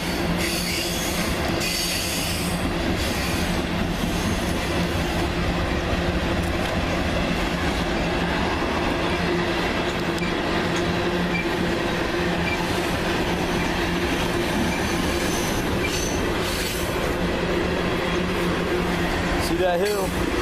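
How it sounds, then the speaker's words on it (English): A train rumbles along continuously with rattling wheels and occasional squeals near Merrimac, Virginia, while people talk over the noise. "I heard that train whistle right when I did"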